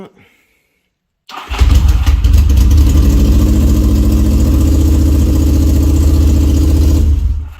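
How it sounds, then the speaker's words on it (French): After a brief moment of near silence, a Yamaha XS750 motorcycle engine fires up loudly and settles into a steady, rumbling idle close by. "c'est pas abusé comment elle démarre cette moto"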